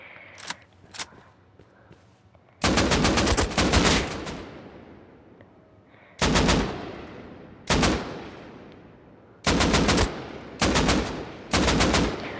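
AK rifle fire in Call of Duty Warzone: one long, loud, close automatic burst followed by several shorter bursts separated by brief pauses.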